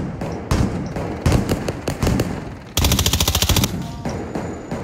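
Gunfire from the video game Call of Duty: Modern Warfare: loud, close single shots in an irregular run, then a rapid automatic burst of evenly spaced rounds, trailing into scattered shots.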